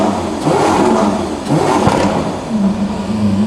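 A car engine revving close by, rising and falling in pitch over several bursts, loud and throaty with no talking.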